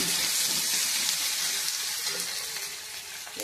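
Chopped onion fries in hot oil with bay leaf for a cabbage curry, a dense steady sizzle close up that fades slightly toward the end, with no talking.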